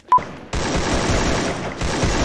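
Video game gunfire: a single sharp shot is followed by a brief pause, then a sustained, rapid burst of automatic fire that rattles on loudly and close.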